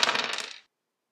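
Dice rolling in the Tooples iPhone dice game, a quick bright rattling clatter of several tumbling hits that stops abruptly after about half a second, heard alone.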